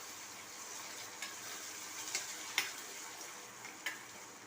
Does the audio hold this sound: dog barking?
no